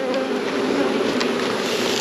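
Honey bees buzz in a dense, continuous drone during a beehive check in late season, loud and close without pause.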